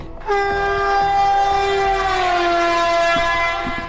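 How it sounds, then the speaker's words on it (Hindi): A passenger train leaving Mumbai Central for Delhi sounds a loud, sustained horn blast lasting several seconds, close and dominant over faint rail rumble. "शाम को 5:30 बजे यहाँ से ये ट्रेन निकली है"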